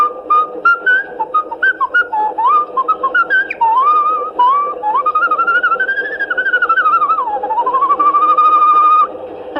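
Someone whistles the tune Yankee Doodle, a bright, wavering melody of short phrases that rise and fall, heard close and alone over faint room hiss.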